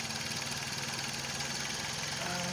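2003 Dodge Stratus engine idling low on revs and slightly rough, a steady close mechanical drone with a faint uneven shake.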